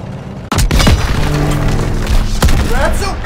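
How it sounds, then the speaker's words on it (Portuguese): Heavy impacts thud and boom against a tank's metal hull in the video game Call of Duty: WWII, a sharp hit at the start and another later, over a loud rumbling game-combat din. "Disparos contra o casco!"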